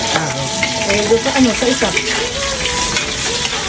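Onion sautés loudly in a pan for pinakbet, a close, crackling sizzle with stirring clatter and a brief spoken word.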